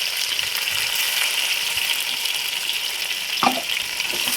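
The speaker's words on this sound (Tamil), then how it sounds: "300 கிராம் வெங்காயம் வந்து அந்த வெங்காயம் கிளறணும். கிளறிட்டு இஞ்சி பூண்டு சேர்த்துக்கலாம்." Onions frying with ginger and garlic in a pan for fish biryani: a steady, loud sizzle runs throughout, with one brief scrape of stirring near the end.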